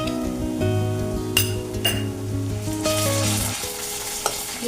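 Garlic paste goes into onions frying in a pan, giving a sizzle under clinks and scrapes of a utensil stirring against the metal, with a few sharp metallic taps.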